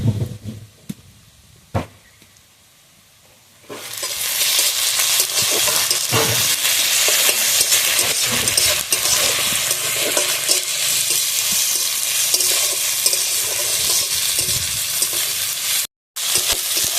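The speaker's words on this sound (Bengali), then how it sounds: "এবার আমি আদা রসুন বাটাটা দিয়ে দেবো।" Ginger garlic paste hitting hot oil with onions in a pan, bursting into a loud, steady sizzle after a few quiet seconds of faint clinks, frying continuously with stirring scrapes and a brief cut near the end.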